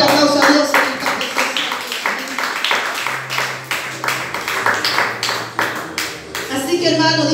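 A church congregation claps in a rhythmic, even beat, loud and close, layered with voices and sustained musical tones throughout.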